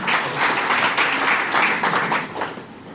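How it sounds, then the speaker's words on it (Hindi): Participants at a teacher training session applaud the trainers, a loud, brief round of clapping from a room full of people that thins out toward the end. "एक बार इन लोगों के लिए भी तालियां हो जाए।"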